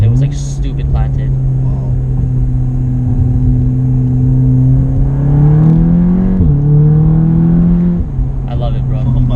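A 400 hp Stage 2 VW Golf R engine drones loudly from inside the car while driving, holding a steady tone, then climbing as it revs near the end, with people talking over it.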